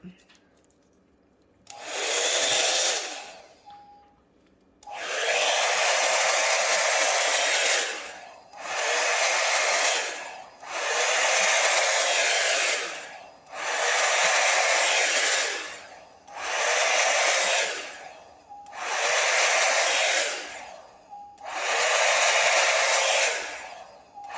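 Hair dryer blowing paint out across a canvas for an acrylic bloom pour, in about seven loud bursts of steady whooshing air separated by short pauses.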